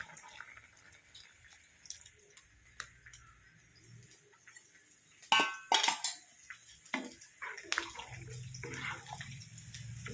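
A ground paste of coconut, garlic, chilli and cumin poured into a bottle gourd curry, with a wet splash and scraping against the pot in the middle, surrounded by quieter kitchen clatter.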